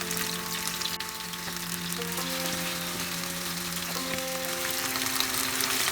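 Chicken pieces frying in a pan for butter chicken, a steady dense crackling sizzle throughout with a few faint stirring or shifting sounds, no talking.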